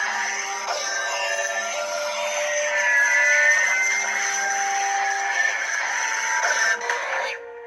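A Theory Sabers lightsaber gives off a continuous buzzing, crackling hum for several seconds, resembling the Darksaber, then cuts off abruptly near the end. No one speaks.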